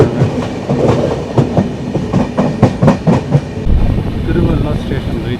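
Passenger train travelling from Chennai to Chengannur: a loud, steady rolling rumble with regular clickety-clack wheel beats over rail joints, heard close from inside the coach.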